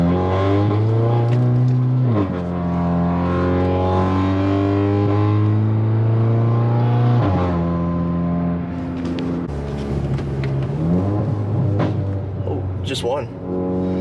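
Audi A3 with a Stage 2 tune driving along, its exhaust droning with a raspy tone that steps up and down through gear changes, loud and close throughout.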